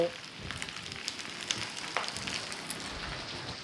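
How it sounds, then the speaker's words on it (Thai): Tomato and onion, along with kale, are stir-fried in a pan for soy-sauce pork fried rice, giving a steady close sizzle with faint scraping stirs throughout and no talking. "ผัดคลุกเคล้าให้เข้ากันดีเลยค่ะ"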